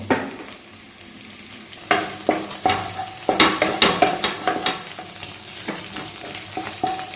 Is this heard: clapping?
no